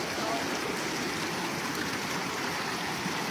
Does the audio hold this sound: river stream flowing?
yes